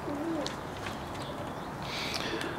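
Young pigeons training outside their loft coo softly at moderate distance, with a few low hooting calls and faint chirps over a steady outdoor background.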